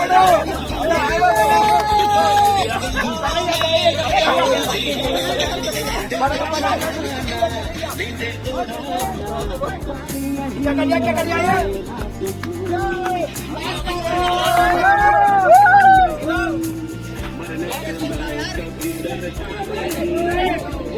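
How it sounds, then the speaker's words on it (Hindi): Crowd bustle at a busy roadside in Satpuli, India, during a road journey from Haridwar toward Kedarnath: dense, close babble of many voices and chatter, with a low traffic rumble underneath. "कितनी भीड़ हो गई"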